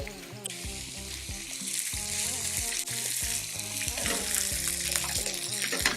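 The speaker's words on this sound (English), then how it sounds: "Make sure your pan is nice and hot and you get that lovely sear." Beef strip loin sears in a hot pan, a steady hissing sizzle running under prominent background music with no talking.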